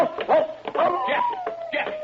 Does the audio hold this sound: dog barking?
yes